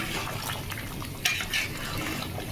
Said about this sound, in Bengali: থেকে গরম মশলার গুঁড়া দিয়ে দিচ্ছি।